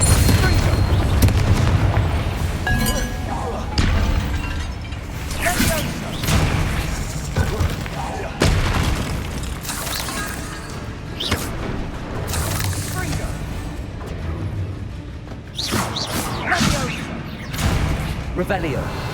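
Spellcasting blasts in a wizard-themed action game, including a Repulsor spell: repeated booming impacts and crackling bursts every second or two over layered battle noise, with voices shouting throughout.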